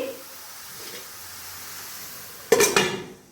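Bottle gourd cooking in a pan with a faint, steady hiss, then a spoon stirring it with a sudden brief rattle and clatter against the pan near the end.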